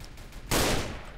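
A sudden burst of gunfire in Roblox cuts in halfway through, dense, loud and sustained after a quieter stretch of game noise, with no voices.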